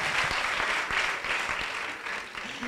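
Audience applauding during a stand-up comedy monologue, a thick burst of clapping from a live crowd that holds steady and eases slightly toward the end, fairly near and full.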